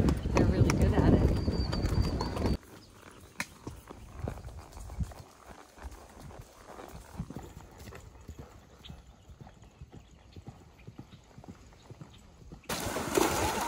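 Horse hooves clip-clop at a walk on a ranch, a steady run of close, distinct strikes through the middle stretch, with louder noise and talk at the start and end and birds faintly behind.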